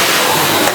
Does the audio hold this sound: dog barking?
no